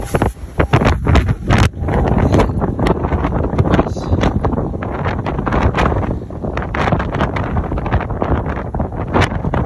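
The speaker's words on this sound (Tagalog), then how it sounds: "Sobrang lakas ng hangin." Loud, steady wind from a windstorm in Roseville, California roars and buffets a microphone throughout, with gusty rumbling and rattling, no talking.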